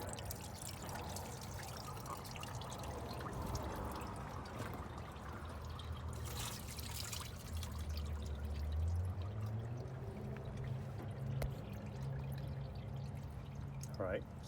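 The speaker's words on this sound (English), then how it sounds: "when I go to pull this off, it's actually going to drop a lot of coolant" Coolant pours and trickles from a pulled hose on a 1997-2001 Honda CR-V into a drain pan, a faint continuous liquid stream with a quiet background.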